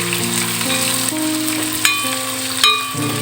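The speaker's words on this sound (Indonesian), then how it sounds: "Oke, lanjut masukkan semua bumbu yang tadi sudah digiling. Ditumis aja seperti biasanya." Ground spice paste stir-fried in a pan for a bean sprout dish, a loud continuous sizzle with a couple of sharp stirring clatters, close up and without any voice.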